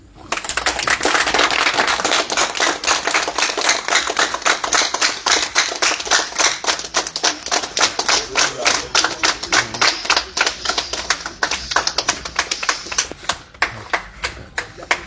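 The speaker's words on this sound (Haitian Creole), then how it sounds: "Applaudis mon Dieu" A church congregation claps in loud, fast, steady rhythm throughout a lively charismatic service, the sharp hand claps evenly spaced and dense.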